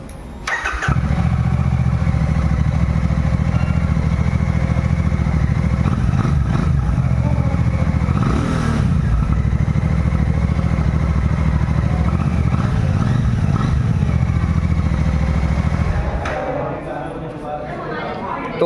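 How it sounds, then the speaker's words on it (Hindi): A Royal Enfield Classic 650 twin-cylinder motorcycle idles with a steady, deep exhaust rumble, close and loud, holding an even note before easing slightly near the end. "तो ये रहा इस बाइक का एग्जॉस्ट नोट।"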